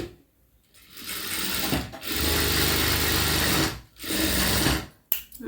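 A sewing machine runs in steady bursts while double stitching along a sleeve, a close, loud mechanical whir that stops briefly twice and then starts again.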